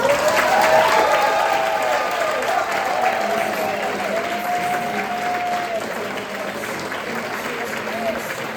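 An audience applauds in a sustained, dense wave of clapping that fades slowly, with voices and cheers mixed in throughout.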